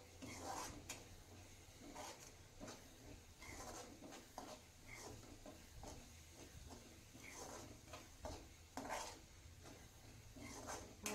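A spoon scraping and knocking against a pan while stirring a cardamom-flavoured coconut burfi mixture, giving soft irregular metallic clinks and scrapes over a low background hiss.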